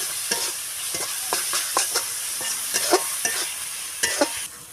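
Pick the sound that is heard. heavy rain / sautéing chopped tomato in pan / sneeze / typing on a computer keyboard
sautéing chopped tomato in pan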